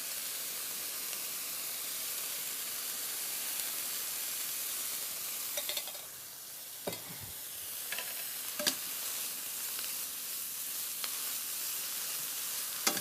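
Cornish hen sautés in clarified butter, giving a steady bright sizzle with occasional stirring scrapes and pops in a quiet kitchen, with no talking.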